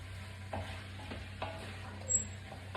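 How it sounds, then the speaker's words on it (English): Flour is stirred into a beef and carrot stew in a pot, making a faint steady sizzle with a few soft spoon scrapes over a low background hum. "I'm going to give that a good mix for a minute"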